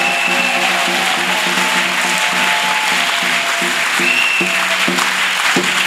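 A church congregation applauds during a fervent prayer service, making a dense, continuous wash of clapping that stays loud and even throughout, with a faint hum of other sound beneath it.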